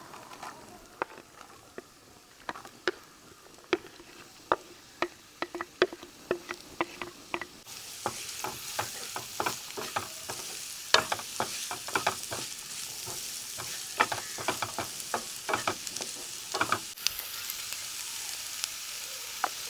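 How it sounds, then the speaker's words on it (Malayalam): Sliced onions frying in a pan for a chicken liver dish, a steady crackling sizzle with frequent sharp stirring clicks and taps, growing busier and louder halfway through, with no talking. "സവാളയും കൂടെ ഇട്ട് കൊടുക്കാം നമുക്ക്"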